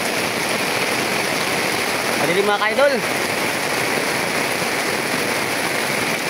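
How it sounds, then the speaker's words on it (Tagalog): Heavy rain pours in a constant, loud hiss throughout, while a voice speaks briefly partway through. "Lakas na naman ang ulan"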